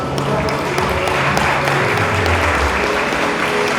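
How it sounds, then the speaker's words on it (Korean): A crowd claps steadily throughout, dense applause filling the room at an award and appointment ceremony in Namsan, Seoul, while a voice speaks over it. "여러분 뜨거운 박수 감사합니다."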